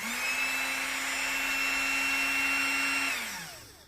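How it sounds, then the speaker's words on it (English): Brand-new parking brake module motor from a Range Rover, run on the bench: a steady high electric whine with a strong tone that holds for about three seconds, then winds down as it stops. "So I'm going to just run this brand new motor."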